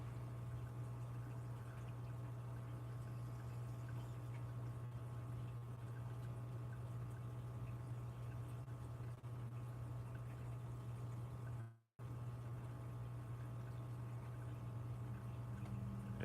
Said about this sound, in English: I need to run some fresh water through that tank for a while